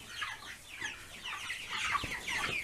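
Young meat chickens cluck and chirp steadily inside a crowded coop, a dense close flock chatter with overlapping calls and no talking.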